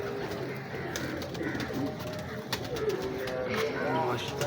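Old breeder pigeons coo repeatedly at close range, their throaty rolling calls mixed with rustling and people talking nearby.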